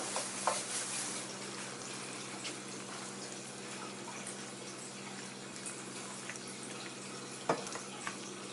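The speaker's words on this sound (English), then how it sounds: "And you stir it and you cover it to cook." A spoon stirs noodles and rice in a cooking pot, a faint continuous scraping and sloshing texture with a couple of small knocks, close by and without talk.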